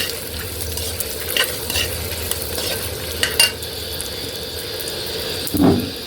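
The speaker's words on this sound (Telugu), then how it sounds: "ఎండుమిర్చి అన్నీ ఇలా వేసుకొని ఒకదానికి అలా అన్నీ వేసుకొని ఇలా ద్వారగా వేయించుకోవాలండి" Dried red chillies fry in oil in a pan for a gongura and sesame chutney, a steady close sizzle with scraping stirs and a few brief louder knocks, no voices heard.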